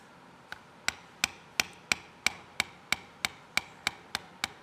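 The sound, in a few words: leather tooling with small bevel tool on knife sheath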